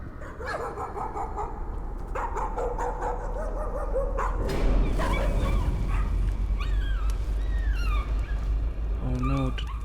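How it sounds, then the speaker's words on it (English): A dog in the video game Layers of Fear barks and whimpers, with a run of sharp yips and barks followed by rising, whining whimpers over a low droning background, close and loud. "Doggy."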